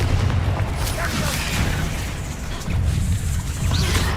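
Spell blasts in Hogwarts Legacy boom and crackle as dense, loud rumbling impacts that run continuously without clear breaks.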